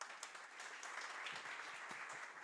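At a youth sponsorship ceremony, a crowd gives a sponsor continuous applause, a quiet and distant patter of many hands that holds steady throughout.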